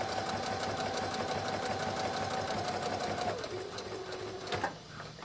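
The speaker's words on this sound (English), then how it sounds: "Now I'm going to very carefully stitch all the way up that line," A sewing machine runs steadily, stitching a diagonal line up fabric for a swim dress, its fast motor hum and rapid needle clatter continuous for several seconds before slowing near the end.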